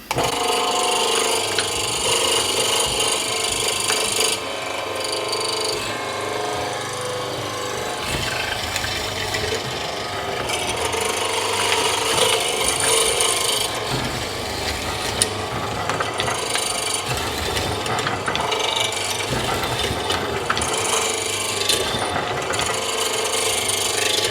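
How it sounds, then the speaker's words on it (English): An Axminster AW19FM floor-standing morticer cuts a mortise in wood with a sharp chisel, giving a loud steady motor whine under a grinding, chattering rasp that rises and eases as the cut goes in, close and with no voices. "So we can now flick the machine on and we'll give this a test cut."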